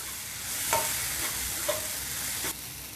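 Mutton roast being stirred in a hot pan, a continuous sizzle and fry with a few sharp scrapes of the spoon against the pan, close and clear with no talking.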